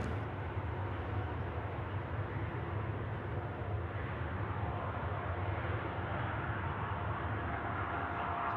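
A Qantas airliner accelerates down the runway on takeoff at Sydney Airport, a steady, distant broadband roar that holds even throughout.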